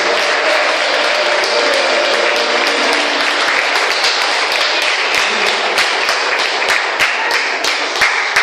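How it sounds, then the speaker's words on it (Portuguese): A church congregation applauds steadily and loudly, the dense clapping filling the whole stretch with some sharper individual claps standing out. "Dá mais uma salva de palmas para ele."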